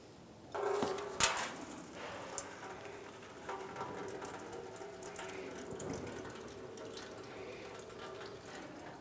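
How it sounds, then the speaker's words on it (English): Coolant pours from the opened drain of a 2005-2007 Ford Five Hundred cooling system into a catch bucket, a steady splashing trickle that starts abruptly after a brief clunk and runs on evenly and fairly close. "we want to have a catch can or a bucket underneath to catch the coolant that is going to come out"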